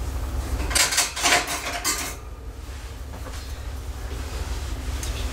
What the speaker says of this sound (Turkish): Başka bir kaşıkla onu indiriyorum.